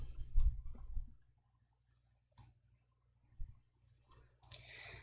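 Computer mouse buttons give a few faint, sharp clicks in a quiet room, separated by silences, with a brief muffled handling thump near the start.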